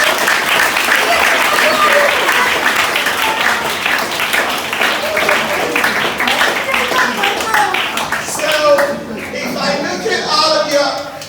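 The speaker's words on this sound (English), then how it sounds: "Could you clap because I saw someone clap?" A school audience at a symposium with Pacelli School claps loudly and steadily, the applause close and full before thinning out, with a voice speaking over parts of it.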